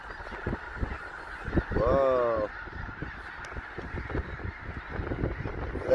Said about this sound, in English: Man, that's some geese, buddy.